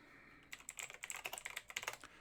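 Typing on a computer keyboard: after a half-second pause, a rapid, irregular run of close crisp key clicks carries on to the end, with no voices.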